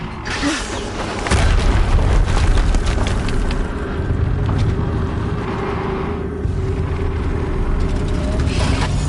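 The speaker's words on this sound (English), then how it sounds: "Another explosion." An explosion in the video game Horizon Zero Dawn bursts with a loud, crackling boom, and heavy rumbling debris and sustained low roar continue for several seconds with further crackles, no talking over it.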